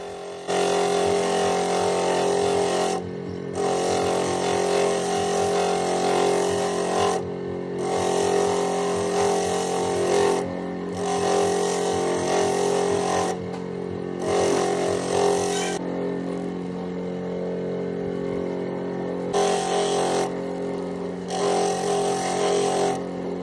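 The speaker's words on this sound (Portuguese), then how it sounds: "vou usar um sistema aí no torno para fazer o apoio do banquinho, né, da cadeira" A metal lathe turning a seat support for a small homemade tractor, a steady whining hum with a strong tonal drone, cutting in repeated stretches separated by short pauses, close and loud with no talk.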